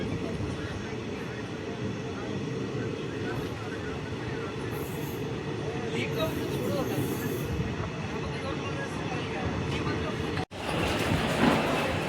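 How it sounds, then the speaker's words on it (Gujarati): A train rolls through Pandoli village railway station en route to Bharuch, heard from on board as a steady rumble of wheels and carriage, with a brief dropout before the noise resumes louder. "આ છે આપણું પાંડોલી ગામ ને પાંડોલી ગામનું રેલવે સ્ટેશનનું લાંબુ ચોડું"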